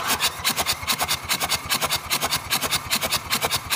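A car engine cranks on its starter during a compression test with no firing, a fast, even, rhythmic churning that stays loud and close throughout.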